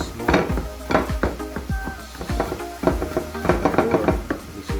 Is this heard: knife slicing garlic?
yes